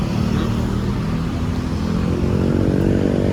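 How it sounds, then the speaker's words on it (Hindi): A road vehicle approaches on a street in Jakarta, Indonesia, its engine a steady low rumble that grows slightly louder and nearer toward the end, with no talk over it. "गाड़ी आ रही है इसका रास्ता में"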